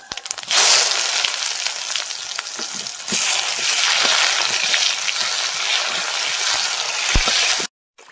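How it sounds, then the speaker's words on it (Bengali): Chopped onions frying in hot oil in a pan make a loud, steady, close sizzle that runs unbroken before cutting out abruptly near the end. "পেঁয়াজ ভাজা হয়ে গেছে"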